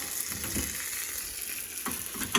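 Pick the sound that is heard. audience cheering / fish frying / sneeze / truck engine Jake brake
fish frying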